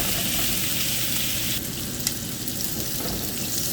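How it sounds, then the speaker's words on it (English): Shrimp sizzling and frying in a pan for vegetable shrimp fried rice, a dense continuous crackle that shifts slightly midway as the pieces settle, close and loud with no talking. "So I'm putting the shrimp in"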